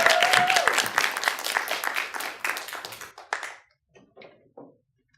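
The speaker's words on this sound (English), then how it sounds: "please give a round of applause" Audience applause at a live public-speaking competition: dense, loud clapping from a crowd for about three seconds, then it breaks off and a single speaker begins talking.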